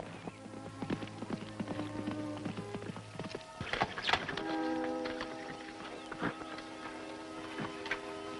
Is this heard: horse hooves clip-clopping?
yes